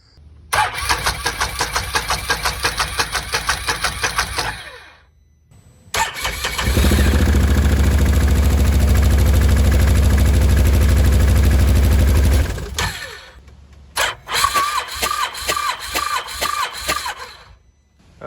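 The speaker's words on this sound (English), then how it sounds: "It's only running on one cylinder." A 2013 Can-Am Maverick engine running on only one cylinder, cranking and catching in a rough sputter, then a long loud steady roar, followed by more uneven cranking and sputtering, all close up.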